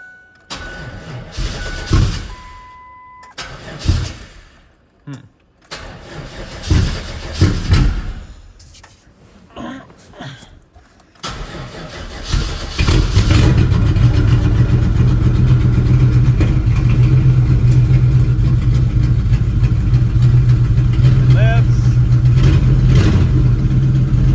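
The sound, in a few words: swapped V8 engine starting and idling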